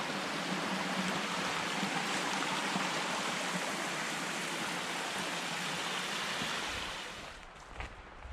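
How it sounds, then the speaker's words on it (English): A deep creek rushes steadily beside a wet Smoky Mountains hiking trail, a loud, continuous wash of flowing water that eases slightly near the end. "for the next 2 hours or so I'll be next to a deep creek"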